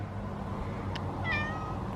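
A cat gives a short, clear meow close by, with a faint steady hum in the background.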